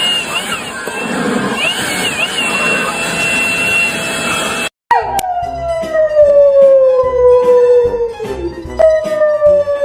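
A dog howls in a long, sliding wail that falls slowly in pitch, loud and close, after a dense burst of mixed noise that cuts off abruptly.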